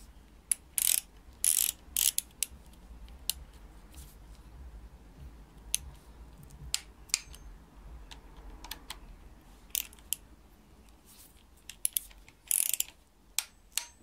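Torque wrench tightening bolts during timing setup on a double-VANOS BMW inline-six engine (M52TU/M54), giving a series of sharp mechanical clicks and ratchet bursts, some in quick clusters, against a quiet workshop background with no talking.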